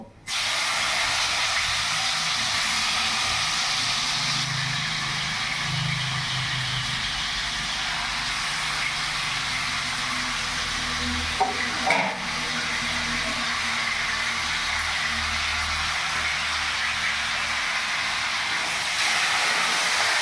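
Marinated chicken fries in hot refined oil over a high gas flame, giving a loud, steady sizzling hiss that runs unbroken throughout, with no talking.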